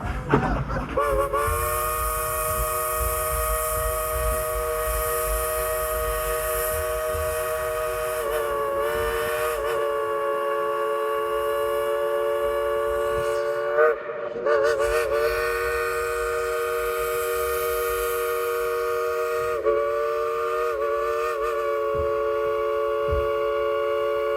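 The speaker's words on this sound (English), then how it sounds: "let's tell them to blow the whistle" A loud steam train whistle from the Dollywood Express at Dollywood, Pigeon Forge, Tennessee, blows in long sustained chords, pausing briefly a few times before sounding again, with rail noise underneath.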